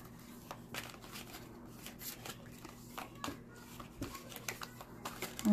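Tarot cards shuffled by hand, close up, with soft repeated slaps and rustles in an uneven rhythm, fairly quiet throughout.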